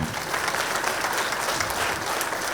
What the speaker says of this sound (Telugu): ప్రతి పిరమిడ్ మాస్టర్ కూడా ఒకసారి చప్పట్లు కొట్టుకుందాం.